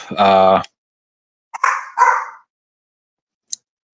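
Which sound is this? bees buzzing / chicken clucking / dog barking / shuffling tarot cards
dog barking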